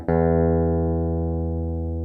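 A single plucked guitar string rings out and sustains during tuning, fading slowly, clear and close with no talking.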